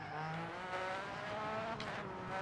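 A rally car climbing Pikes Peak in Dirt Rally, its engine held at a loud, steady high pitch with slight throttle lifts, and a short tire scrub partway through.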